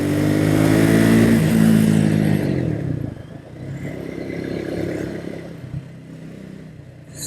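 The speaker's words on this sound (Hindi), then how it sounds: "सो ये मज़ा है 400 सीसी के इंजन का" A Triumph Speed 400 motorcycle with a 400 cc engine climbs a hill, its engine loud and revving at first, then easing to a quieter rumble with some clatter.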